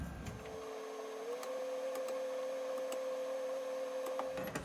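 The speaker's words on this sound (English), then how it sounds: "Now I'm going to run that oversized reamer in there." An oversized reamer runs into an engine valve part, producing a steady metallic whine with a sustained tone that holds for several seconds over a low machine hum, close and fairly quiet.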